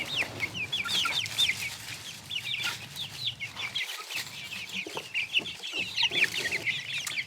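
Chickens cluck and chirp steadily on a working organic farm, a busy chorus of hens with no talk over it.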